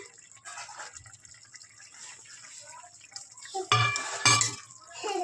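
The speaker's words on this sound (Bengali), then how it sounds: "একটু নেড়ে চেড়ে নেবো।" A vegetarian ridge gourd posto curry with green chillies and tomatoes is stirred in a pot, giving soft scraping and clinks of the utensil against the metal that grow louder in a few sharp knocks near the end.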